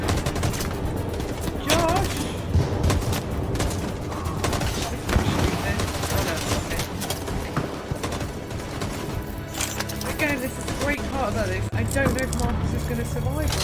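Rapid gunfire in a shootout in the video game Detroit: Become Human, bursts of shots crackling over a loud, busy mix of music and effects, with voices heard in the scene.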